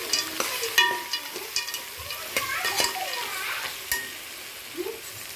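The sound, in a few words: stirring macaroni with masala in a pan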